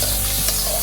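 Sambar chilli powder frying briefly in a hot pan for a Tamil papad kuzhambu, a short, loud, steady sizzle with a faint stirring scrape.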